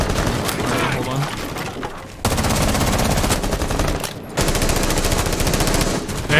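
Sustained automatic gunfire rattles loud and close in a first-person shooter game as rounds are sprayed at a wall. Rapid bursts continue with only brief pauses, and voices talk underneath.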